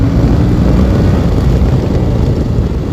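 A Yamaha MT-07 Tracer motorcycle with stock exhaust runs close by, a loud deep rumbling engine note with a steady throbbing low end that holds throughout without talk.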